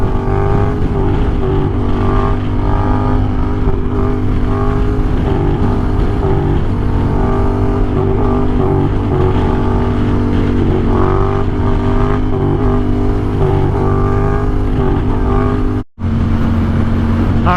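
A Yamaha FZ07 motorcycle engine drones loudly in fourth gear, its pitch rising gradually as it pulls, with heavy wind rush over the microphone throughout and a brief dropout near the end.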